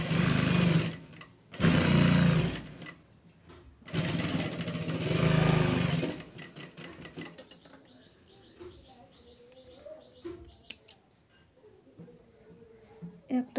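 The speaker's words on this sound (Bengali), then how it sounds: "এবার এখানে ডবল সেলাই দিয়ে দেব" A sewing machine runs in three loud bursts while double-stitching the sleeve of a long blouse. Quieter clicks and rustles follow, and a voice speaks faintly in the background.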